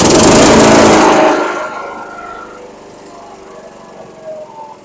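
A small engine on home maintenance equipment runs loudly and roughly up close, then dies away after about a second, leaving faint low rumble.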